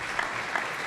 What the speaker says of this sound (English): Let's go ahead and give Gavin Brubaker a round of applause in his absence.